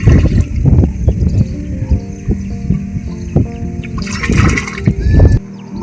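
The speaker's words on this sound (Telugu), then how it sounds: "మందు 10 బిందెల నీళ్ళల్లో వేసిన తర్వాత ఇలా కలుపుకోవాలి." Water sloshes and splashes in a tub as pesticide for fall armyworm control in a maize field is stirred in by hand, a steady churning with rhythmic swirls, close and fairly loud throughout.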